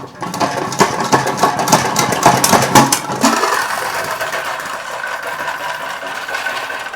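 A hand-spun salad spinner whirring fast, its basket rattling and clicking mechanically in a dense, steady rotation that eases slightly after a few seconds, close and fairly loud.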